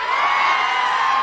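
A crowd at a public political meeting in Adilabad, Telangana, shouts and cheers in a loud, steady, continuous roar with no break.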